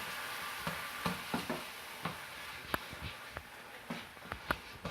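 A pork sour cream and dill sauce cooks in a pan, with a soft steady sizzle and bubbling. Spoon scrapes and stirring taps recur at irregular intervals, and the whole sound stays fairly faint.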